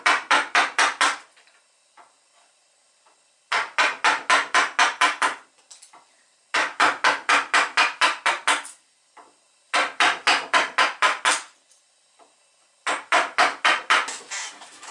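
A gouge hollows the inside of a wooden toy boat hull with five bursts of rapid, sharp wooden tapping strikes, each burst followed by brief quieter scraping, all close and loud.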